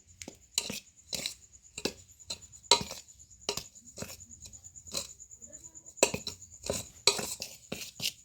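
A peanut fritter batter with black pepper and salt stirred by hand in a bowl, heard as sharp, irregular clinks and taps of a spoon against the dish over about eight seconds, close and quiet, with no speech.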